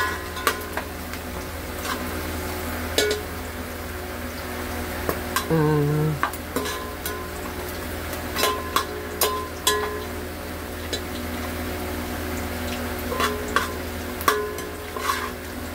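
Onions frying in oil for a simple veg pulao, a constant low sizzle with repeated spatula scrapes and clicks against the pan throughout, one brief louder stir in the middle, with no voices.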